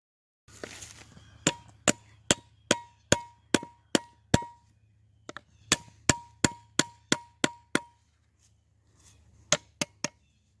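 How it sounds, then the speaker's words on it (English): Sharp metallic hammer strikes on hot steel blade over an anvil ring out in steady bursts, about a dozen blows in two runs, then a few more, each with a bright clang over a low hum. "I'm going to hammer it this way, so when I bevel it, it will end up straight"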